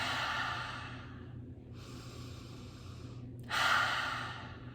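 Slow, deep breathing during a breathwork class: a long noisy inhale, a quieter pause, then another strong breath near the end, close and clearly audible with no talking.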